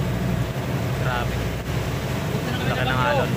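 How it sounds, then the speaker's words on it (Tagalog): Big waves churn and crash around a small boat during Super Typhoon Goring, a roaring wash of water and wind under excited voices. "Laki ng alon"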